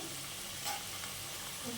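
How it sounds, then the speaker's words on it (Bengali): Potatoes frying in a pan for a mutton masala curry, a constant close hissing sizzle that fills the short stretch, with a faint clink partway through and no talking. "দেখো আলুটা ভাজা হয়ে গেছে"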